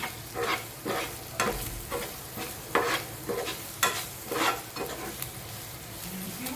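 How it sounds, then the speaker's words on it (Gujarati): Spice masala fries in a pan with a soft sizzle while a spoon stirs it in regular scraping strokes, roughly two per second, close and fairly quiet. "મસાલો આ રીતે શેકાઈ જવાથી એની કડવાશ જતી રહે છે"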